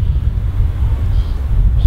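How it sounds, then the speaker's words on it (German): Gusty outdoor wind buffets the microphone, producing a constant low rumble that swells and dips unevenly with no other clear sounds. "Und windig ist hier auch noch."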